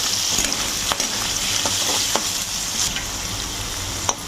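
Potato and carrot frying with onions in a pan, a steady close sizzle broken by scraping stirs of a spoon at irregular moments, with no talking.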